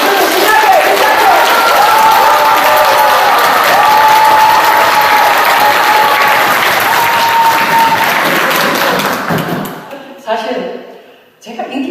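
Audience applause at a lecture: sustained, loud, dense clapping from a large crowd that fades out near the end, followed by a speaking voice.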